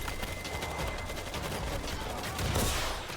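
Dense, continuous rattle of rapid gunfire in the video game World War Z fills the whole moment, steady and loud with a slight swell toward the end, like an intense firefight.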